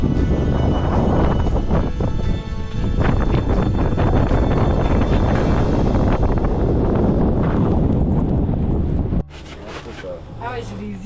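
Wind on a frozen lake during ice fishing in Québec roars and buffets the microphone with loud low rumble, then drops abruptly near the end to quieter outdoor air.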